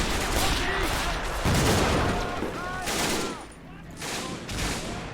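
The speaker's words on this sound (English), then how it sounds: "1910 machine gun there, needs to go." Rapid bursts of 1910 machine gun fire in the WWII strategy game Men of War: Assault Squad 2, dense crackling volleys mixed with other battlefield gunfire throughout, with voices calling out over the din.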